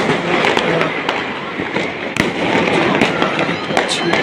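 Fireworks burst repeatedly over a capital city, a dense, loud crackle of bangs and pops layered continuously with sharp louder cracks standing out, forming a constant roar of explosions.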